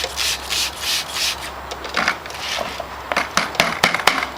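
A wheel brush scrubs a bike cassette in repeated close bristly rubbing strokes, first in steady rhythmic passes and then in quicker, sharper scratchy flicks.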